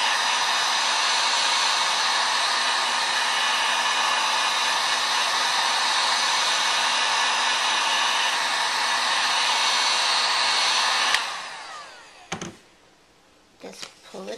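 Heat gun warming a plastic bottle, blowing as a loud, steady airy roar for about eleven seconds before switching off, followed by a few faint handling clicks.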